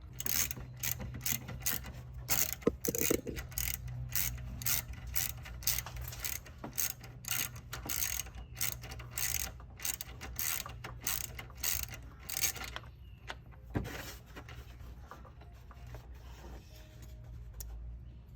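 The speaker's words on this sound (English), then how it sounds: "there is a nut right there that I believe is a 12mm nut, and we can remove that" A ratchet wrench clicks rapidly and steadily while loosening a 12mm nut under the hood of a Honda Odyssey during an alternator replacement, the close metallic ticking running almost continuously before thinning out near the end.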